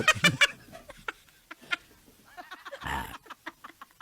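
A chicken clucks in short bursts, starting with loud sharp squawks and then settling into softer, scattered clucks and rustling, with a brief noisy burst near the middle.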